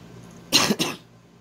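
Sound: coughing

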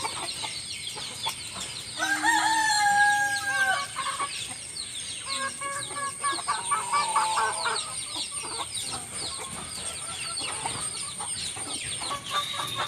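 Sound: chickens of various sizes clucking in coop

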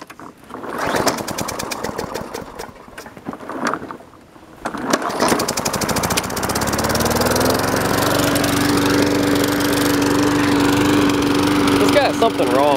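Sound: lawn mower running while mowing grass

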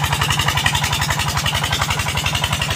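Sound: Peter engine water pump running

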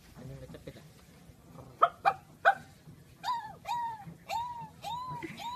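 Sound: man imitating a dog barking

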